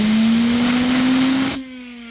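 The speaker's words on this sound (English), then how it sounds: "but I'm going to shoot this thing full of air." Compressed air blows in a loud, steady, close hiss into the gearbox of an Arrma Vendetta/Infraction RC car. It cuts off sharply near the end, leaving a fainter lingering tone.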